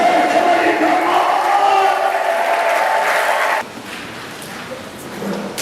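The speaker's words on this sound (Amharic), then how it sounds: "በመጨረሻ እንደገና እልልታና ጭብጨባ ለነገሥታት ንጉሥ ለእግዚአብሔር ክብር ይገባል።" A church congregation claps and ululates together in worship, a loud mass of high trilling and clapping that cuts off abruptly partway, leaving quieter room murmur afterward.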